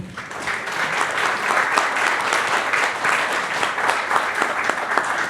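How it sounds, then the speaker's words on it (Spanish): An audience at a panel discussion claps steadily and enthusiastically, dense applause holding at an even level for several seconds with no voices over it. "Le damos un fuerte aplauso a Gabriela por estar aquí."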